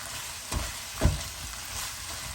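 Garlic and chili fry in hot oil with onions for a Fiji-style chicken giblet curry, giving a steady close sizzle throughout with a couple of louder stirring bumps, and no talking.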